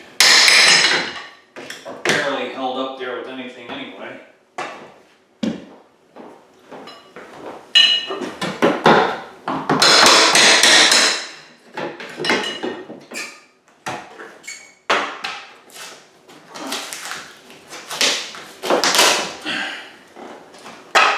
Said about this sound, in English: Next, we'll pry off all these stupid trim pieces